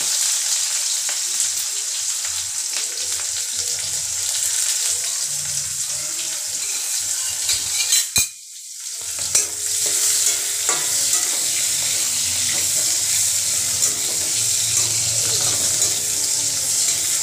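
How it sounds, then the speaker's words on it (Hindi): Onions frying and being stirred in a pan with tea leaves, a cinnamon piece and halved green chillies, browning for an aloo chicken curry; steady close sizzle with scraping stirs, briefly cut near the middle before resuming. "हम प्याज को थोड़ा ब्राउन कर लेते हैं।"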